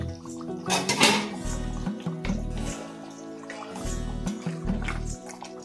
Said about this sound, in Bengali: আমি ঢাকনাটা খুলছি